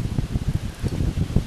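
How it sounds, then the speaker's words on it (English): Wind buffets the microphone outdoors, a steady low rumble with gusty swells and a light rustling texture throughout. "It's a slightly windy day today"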